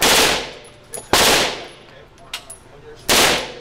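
Machine gun firing three short controlled bursts on an outdoor range, each a loud rapid rattle lasting about half a second, separated by quiet gaps with faint shuffling.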